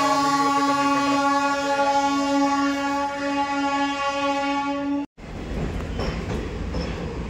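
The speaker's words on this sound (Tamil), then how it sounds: "ட்ரெயின் எடுத்துட்டாங்க காய்ஸ்." A passenger train on the Bangalore to Kolar route sounds a long, loud, steady horn blast near the station, then cuts off abruptly to a rumbling rail roar with faint squeals as it departs.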